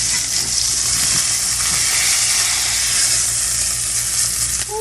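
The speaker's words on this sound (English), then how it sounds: "Press it down so we can get that good sear on it. Hear that?" Steak pressed down to sear in a hot pan gives a loud, steady, close sizzle and hiss that holds for several seconds, with a faint scrape near the end and nobody speaking.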